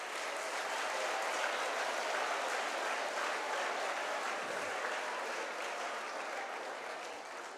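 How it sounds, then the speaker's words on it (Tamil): An audience at a motivational talk for about a thousand students applauds in one dense, loud, continuous wash of clapping that holds steady and fades slightly at the end. "அவங்களுக்கு ஒரு கைத்தட்டு கொடுங்க."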